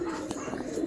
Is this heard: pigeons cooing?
yes